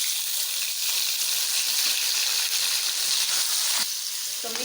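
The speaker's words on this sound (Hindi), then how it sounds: "अब हम इसमें ऐड कर देते हैं चिकन।" Chicken added to ginger garlic paste frying in a pan for chana gosht, a loud, dense, continuous sizzle close up that holds steady and eases slightly near the end.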